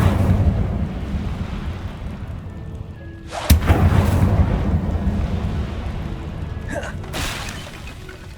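Fiery spell blasts from the Incendio charm in Hogwarts Legacy, with a sharp burst near the middle and another later, each roaring over a rumbling ambient bed in a spellcasting game.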